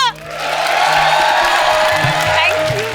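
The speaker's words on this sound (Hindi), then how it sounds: "आंटी, तालियां बजा दो।" Studio audience on a Hindi comedy talk show claps and cheers as a film actress is welcomed onstage, a loud steady roar of applause and whoops with voices and music mixed in.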